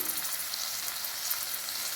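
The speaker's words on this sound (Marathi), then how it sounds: "मसाल्यात टाकायचे आपल्याला वाटाणे" Green peas added to a masala gravy in a hot pan for a carrot vegetable dish give a loud, steady frying sizzle and hiss throughout, close up with no voices.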